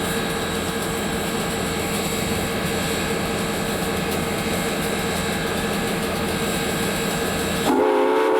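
The SP six-chime whistle on FEC 153, a steam locomotive at Clewiston's Sugarfest, sounds one long, loud, sustained melodic blast over the rumble of the train. It shifts abruptly in tone just before the end.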